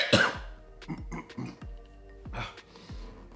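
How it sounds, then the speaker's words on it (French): Several harsh coughs in a row, close and loud, the first the strongest, with brief pauses and throat noises between them. "En même temps que je tousse"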